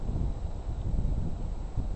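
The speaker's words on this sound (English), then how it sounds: "Today it's very windy" Strong wind buffets an outdoor microphone on a very windy day, a steady low roar that swells and gusts, with no voices.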